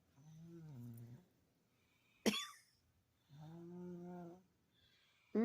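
A pet kangaroo snores in low, rough rumbling breaths at night, two long drawn-out snores separated by short sharp snorts, quiet and close.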